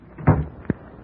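A door thumps shut once in a quiet room, a short dull knock after a brief rustle of movement, close by and alone.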